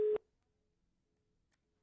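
Telephone busy tone after a phone line connection drops: one short, loud steady tone burst at the start, then near silence.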